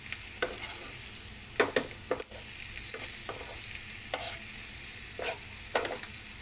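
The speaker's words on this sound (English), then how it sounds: "Just saute this in a medium flame." Food sautés in ghee in a pan over a medium flame with a constant soft sizzle. A utensil scrapes and stirs in repeated short strokes close by, and no one speaks.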